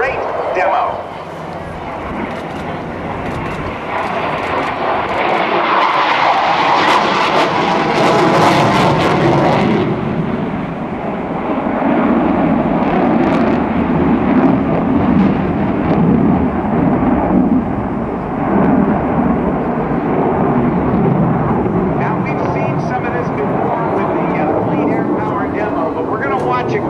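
F/A-18F Super Hornet jet flying a pitch rate demo at an airshow at NAS Oceana: a loud, continuous roar that swells and shifts as the jet passes, with someone talking over it.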